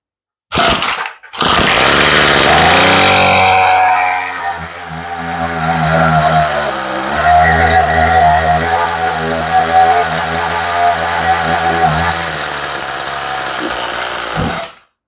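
A weed eater's small two-stroke engine, with its carburetor needing adjustment, starts with a sputter and then revs high and loud for a few seconds before dropping to an uneven, wavering run that cuts off at the end.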